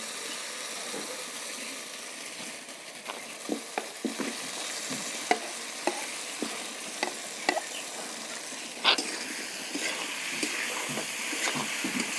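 Pre-fried potato and eggplant are stirred into sizzling spices in a pan for a village-style katla fish curry, giving a constant frying hiss with sharp spatula clicks and scrapes at irregular intervals, close up and without speech.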